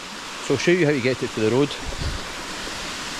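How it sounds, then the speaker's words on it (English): A hidden waterfall in the snow near Ben Narnain gives a steady, soft rushing hiss throughout. Someone talks briefly over it. "Now this waterfall is only about 300 metres from the road"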